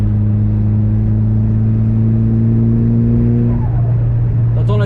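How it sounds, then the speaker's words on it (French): A Mitsubishi Lancer Evo 5 accelerating on a winding road, its turbo spooling up over a loud, steady engine drone, with a rising whistle near the end. "La turbine qui charge, j'adore"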